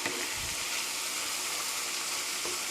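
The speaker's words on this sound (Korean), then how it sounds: "5 minute 5분 정도 볶아주세요" Ingredients for a tomato sauce rice bowl stir-frying in a pan, a steady close sizzling hiss with faint stirring scrapes underneath, continuous and without speech.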